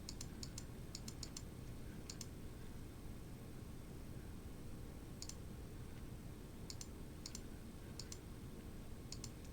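Keys click on a computer keyboard in quick, faint bursts separated by pauses, set against a steady background hiss.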